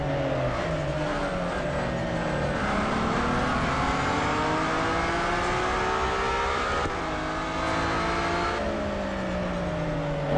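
Mazda 787B race car in the Real Racing 3 video game, its engine screaming at high revs and shifting through gears. The pitch climbs and drops in sweeps under a steady loud drone, with no voices.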